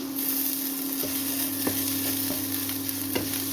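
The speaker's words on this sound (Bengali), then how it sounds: "মশলাগুলো নাড়ব" Spices fry in oil in a pan while being stirred for a spicy tilapia and rohu fish curry, a steady close sizzle with occasional soft scrapes of the spoon and a constant low hum underneath.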